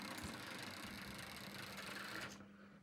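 A small Hornby TT:120 model locomotive motor whirs steadily as its wheels spin on the track, a faint continuous buzz that drops off near the end.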